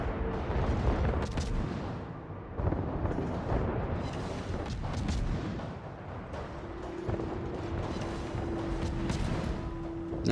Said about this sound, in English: can this North Carolina survive and finish this guy off?